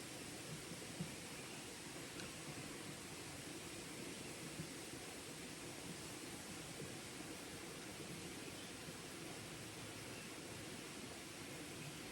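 Flowing water heard from a distance along a forest trail, a faint, steady, even hiss of running water with no other sounds and no speech.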